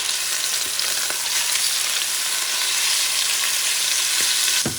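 Pieces of duck meat fry in a pan of oil with a loud, dense, continuous sizzle and crackle close by, with a few faint utensil taps and no speech.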